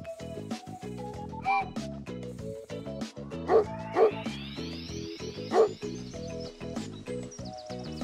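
A few short, bright dog barks ring out over a bouncy, cheerful musical backing, spaced a second or two apart.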